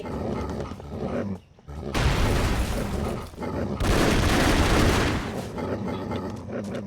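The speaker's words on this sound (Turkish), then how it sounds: "Köpekler var." Dogs bark in the side-scrolling action game Broforce, the yaps buried in a dense, continuous wash of gunfire and explosions that swells loudly in two bursts.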